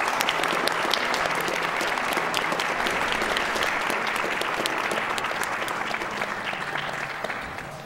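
A large audience at a speedrunning marathon event breaks into loud, sustained applause that stays dense and even for several seconds before easing slightly at the end.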